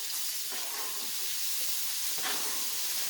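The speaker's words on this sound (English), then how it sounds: "So we'll just saute these off for a couple of minutes." Zucchini noodles sautéing in butter in a pan, a soft continuous hiss and sizzle, fairly quiet, with a couple of faint stirring movements.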